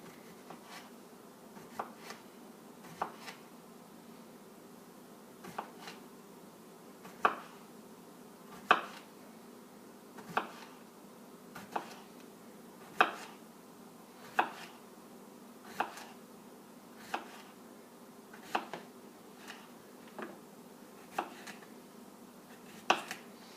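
A knife chops food on a cutting board in a home kitchen, with sharp, evenly spaced thuds repeating steadily and fairly close.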